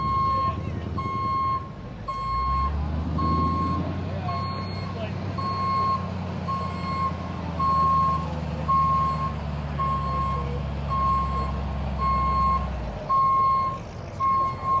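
A monster truck used for ride-alongs at a Ford car show rumbles by with a low engine drone, while a steady reversing beeper pulses repeatedly over it; the truck fades out near the end.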